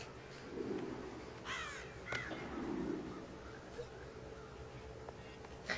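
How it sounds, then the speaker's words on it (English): Bird in the video game Child of Light, heard as a few faint short caws and hiccup-like chirps scattered over a quiet ambient background. "Dude, that bird is drinking. Hick, hick. That drunk bird."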